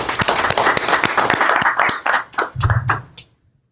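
Loud, close hand clapping at a quick, uneven rhythm, building into a burst of applause that thins out and stops, with a low voice briefly underneath near the end.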